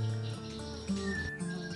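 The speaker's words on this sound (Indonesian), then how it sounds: "Ini adalah salah satu contoh murai batu F4" White-rumped shama (murai batu), an F4 crossbreed, sings in a short continuous phrase of chirps and whistled notes, close and steady, with no talk over it.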